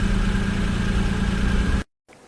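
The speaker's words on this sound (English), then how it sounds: "Green. Taxi." Taxi engine idling, a steady dense rumble held evenly for under two seconds before cutting abruptly to silence.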